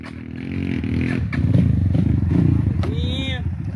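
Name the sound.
motorcycle engine on a trail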